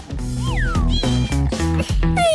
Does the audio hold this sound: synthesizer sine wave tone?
no